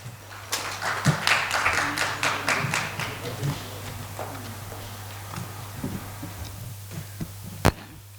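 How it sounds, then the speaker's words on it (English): An audience at an education summit's inaugural session applauds a speaker. Dense clapping for the first few seconds thins to scattered claps, then to near quiet with a final lone clap. "A big round of applause for ma'am."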